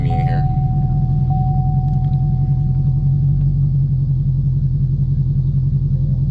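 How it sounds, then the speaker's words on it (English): A Camaro ZL1 engine idles with a deep, steady rumble heard from inside the cabin, loud and constant throughout. "Let me start the car for you guys from the inside."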